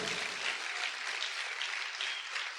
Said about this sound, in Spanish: Vamos, que se escuche ese aplauso.